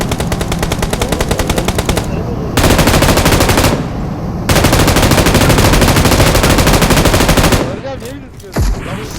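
Heavy automatic gunfire in the mobile battle royale game PUBG Mobile, loud and close, with long rapid bursts broken by short pauses and a last isolated shot as the firing stops.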